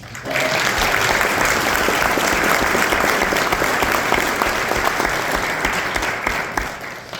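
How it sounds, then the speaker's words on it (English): Sustained, loud audience applause fills a conference room at a comics retail trade event in California, a dense wash of many hands clapping with no talk over it, fading slightly toward the end. "Please give yourself a round of applause."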